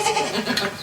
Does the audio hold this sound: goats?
yes